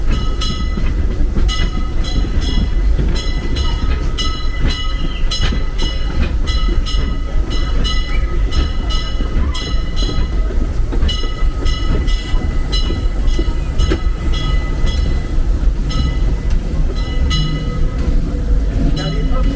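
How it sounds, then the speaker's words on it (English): A Disneyland Railroad steam train runs with loud, continuous rumbling and rhythmic clickety-clack from the rails, heard up close from aboard the engine, with regular metallic ticks throughout. "do you folks know the history of this train?"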